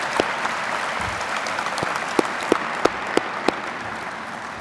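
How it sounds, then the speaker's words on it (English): Audience applause at a 2020 Lincoln High graduation ceremony in Pinnacle Bank Arena, a steady wash of clapping from a large crowd filling the hall, with a few sharper nearby claps standing out over the continuous patter. "Let's give them a round of applause as they head back to their seats."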